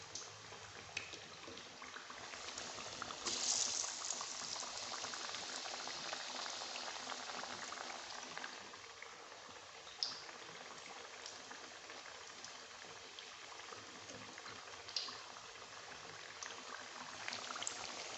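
Batter-coated potatoes deep frying in hot oil in a kadai over a low flame, a steady bubbling hiss that holds evenly throughout, with a few faint clicks and no voices.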